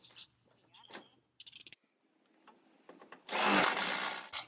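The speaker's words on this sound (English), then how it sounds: "The flashing is now secured into place using 16 mm tech screws with a rubber type washer." A power tool driving 16 mm tech screws with rubber washers through apron flashing on a veranda roof, heard as a loud sustained burst of about a second near the end, after scattered knocks and handling clicks.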